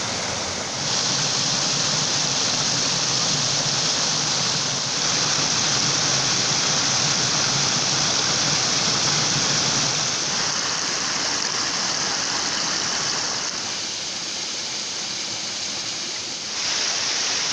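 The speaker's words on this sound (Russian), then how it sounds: "Это вот я дошел до первых каскады, а водопады будут" Water cascades steadily down a rocky mountain gorge, a dense, continuous roar of rushing flow that stays loud and close throughout, with no voices.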